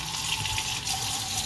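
Water runs steadily from a kitchen tap, a continuous close hiss and splash that is being warmed for baking English muffins.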